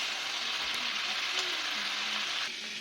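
Chopped green chilli and garlic fry in hot oil for a chilli chicken dish, giving a soft, steady sizzle that holds evenly throughout and then eases slightly near the end, with no voices.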